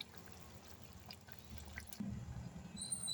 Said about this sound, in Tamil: இப்போ நல்லா கொதிக்கிட்டோம் குருமா